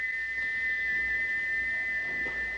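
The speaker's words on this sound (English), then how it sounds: "he wouldn't stop whistling until two fitters climbed up and knocked his whistle valve in place" Gordon the steam engine's whistle shrieks continuously as a single, steady, piercing high tone held at even loudness throughout, over a low hissing background with no voices.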